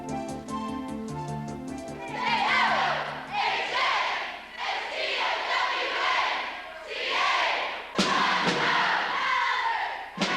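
Kids cheer loudly for hometown heroes at a Pennsylvania community event, with a crowd roar rising and falling in waves and a sharp thud partway through, following a brief musical opening.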